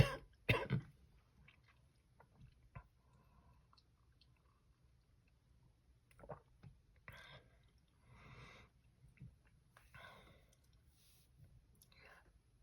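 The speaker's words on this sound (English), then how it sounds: "I'm sorry for the coughing and gagging" A person with sinus trouble coughs and clears their throat up close, a sharp burst at the start followed by scattered quieter coughs, gags and mouth noises.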